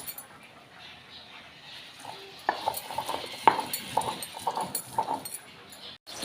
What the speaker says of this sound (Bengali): শিলনোড়াতে এগুলোকে বেটে নিতে হবে